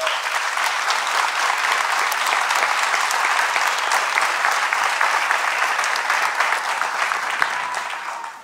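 An audience at an instrumental concert applauds the drummer with a full, dense wash of clapping. It holds steady and loud for several seconds, then starts to thin toward the end, with no speech over it.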